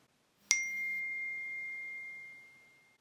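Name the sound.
text message notification sound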